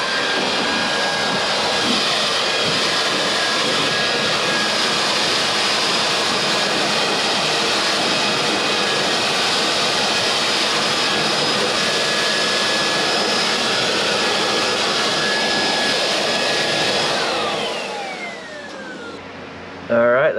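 Compressed air roars steadily as it blows dust and pet hair out of a Black+Decker 10,000 BTU portable air conditioner, a loud continuous hiss lasting most of the clip before cutting off near the end.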